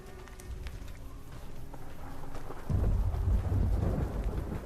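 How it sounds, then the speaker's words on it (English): Rain and thunder in a Fallout game, a rumbling storm with steady rainfall that swells into a heavier, louder roll of thunder halfway through. "Oh, the thunder."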